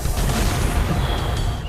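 Explosions in Halo: The Master Chief Collection make a dense, loud, continuous wash of rumbling booms and crackling debris, heavy in the low end with no pauses.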